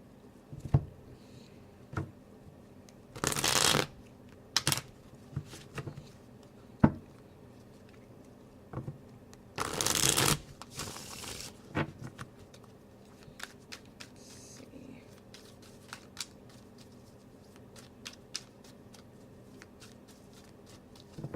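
Cards are shuffled repeatedly, with quick riffling bursts and softer shuffling and tapping between them in a quiet room.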